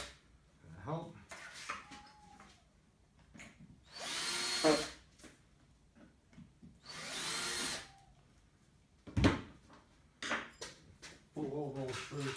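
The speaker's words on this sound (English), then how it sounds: "Drill a hole." A power drill whirs in several short bursts, one longer run boring through material, with quiet talk and small clatters between.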